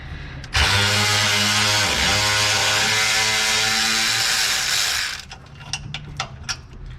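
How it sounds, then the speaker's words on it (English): A powered ratchet loosens exhaust hanger bolts during an MBRP exhaust install, buzzing steadily for about four seconds before stopping, followed by a few sharp clicks and knocks. "You can use an air ratchet, an electrical ratchet, or even a hand ratchet for it."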